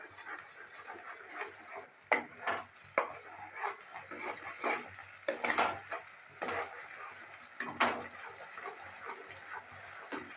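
Spices being sautéed and stirred in a pan over high heat, a steady run of scraping, clattering strokes over a low sizzle, close and moderately loud.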